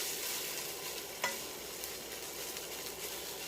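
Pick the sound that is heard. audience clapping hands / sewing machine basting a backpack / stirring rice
stirring rice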